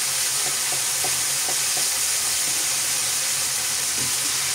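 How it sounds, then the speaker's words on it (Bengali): Ginger garlic paste frying in hot oil in a pan, a steady close sizzle and hiss with occasional light stirring clicks, no talk. "এখন খুব ভালোভাবে আদা রসুনের পেস্ট তেলের সাথে ভেজে নিচ্ছি"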